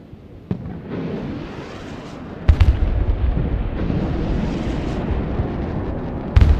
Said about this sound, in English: Realised that rockets are coming in